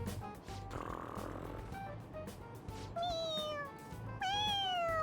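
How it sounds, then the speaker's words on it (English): A cat purring in the video game Persona 5: a low, steady rumbling purr runs throughout, joined by several rising, tonal meow-like cries toward the end, fairly close and clear. "That was a purr."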